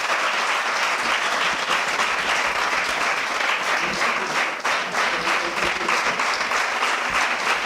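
An audience at a university foundation day ceremony applauds after a release, a dense, loud, continuous clapping that holds steady for the whole stretch.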